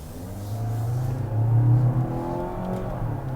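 A 2025 Mazda CX-90 plug-in hybrid SUV pulls hard under acceleration. The engine drone is loud and close, swelling and then settling as the transmission shifts down. No one speaks.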